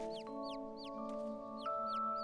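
A cartoon chicken makes a quick run of repeated high, chirpy clucks over a steady musical drone, evenly spaced and clear.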